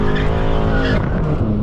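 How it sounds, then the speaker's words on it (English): A Stage 2 800 hp BMW M6 slides sideways in a drift, its engine roaring loud and close and its tires squealing in long howls the whole time. "I'm gonna try to get a little sideways here"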